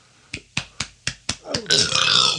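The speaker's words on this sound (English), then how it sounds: "That's going in the burp track." Several short, sharp burps in quick succession, five or six close bursts with brief gaps, followed by a longer, rougher and noisier belch that trails off, all near and fairly loud.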